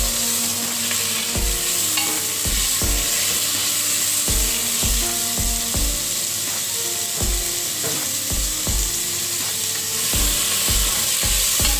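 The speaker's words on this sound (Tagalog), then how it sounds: "Pag okay na, brown na yung sibuyas ng konti, lagay natin yung kamatis." Tomatoes hit browned onions in a hot pan while cooking adobong pusit, a steady loud sizzle broken by regular knocking, scraping stirs of a utensil against the pan throughout.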